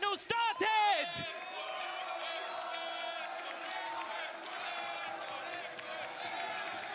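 Studio audience at a Valorant VCT EMEA Kickoff grand final, Team Liquid against Vitality, whooping and cheering behind an excited voice that fades out, then a steady crowd roar carries on.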